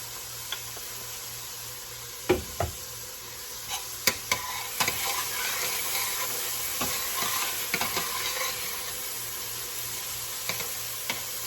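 Salted and peppered pork ribs sizzle steadily in a pan while a utensil stirs them, giving scattered scraping knocks and clicks over a constant close hiss, with no one speaking.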